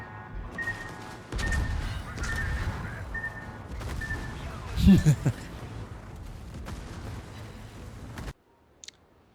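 Naval gunfire from battleships in World of Warships, heavy low rumbling booms and rolling blasts building to a loud burst near the middle, with constant game noise, then cutting out abruptly.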